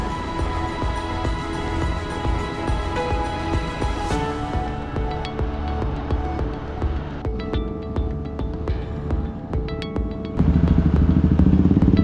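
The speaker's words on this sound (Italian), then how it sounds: "Adesso 2 scooter, Rita e Mirko e andiamo" Scooters ride on the island of Koh Phangan with a steady, close engine drone and throbbing hum that holds throughout and grows louder and rougher near the end.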